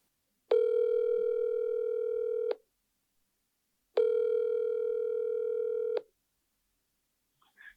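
Two long steady telephone dial tones, each about two seconds, heard clearly after a handset is picked up, with a short gap between and silence after.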